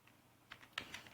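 A handful of soft keystrokes on a computer keyboard, sparse and irregular taps, faint and close in a quiet room.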